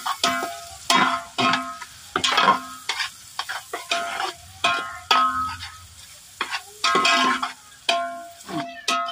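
Ginger, green chili and garlic paste is sautéed with reddened onions for a large village-style batch of pav bhaji. A spatula stirs and scrapes the pan in repeated, fairly loud bursts over a gentle sizzle.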